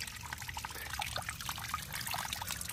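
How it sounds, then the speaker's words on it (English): Water pours steadily over a stream drop-off at a gold-prospecting spot, a continuous close trickling and splashing rush with no voices. "Water comes in here hot and heavy."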